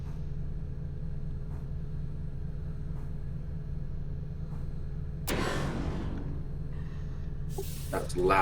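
Steam locomotive in Railroader shoving train cars into their couplers at the end of the track, a sudden loud clanking crash with a hissing burst over a steady low engine rumble, followed by a second sharp impact.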